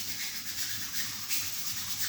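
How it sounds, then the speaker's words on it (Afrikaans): Garlic butter being smeared inside bread buns for farm-style rolls, a soft continuous scraping and rubbing sound, close and steady with no talk. "Sy smeer al daai lekker botter garlic binne in die bunnies in."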